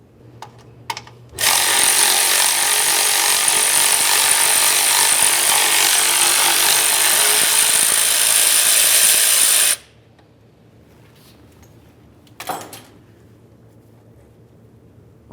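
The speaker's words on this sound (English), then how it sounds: "Now we can move along to removing our 13mm bolt that holds the bracket of the flex hose" A power tool removes the 13mm bracket bolt holding the front brake flex hose to the strut tower on a Dodge Dakota. It gives one loud, continuous, close whirring burst of about eight seconds, then stops, followed by a short clink and a brief second burst.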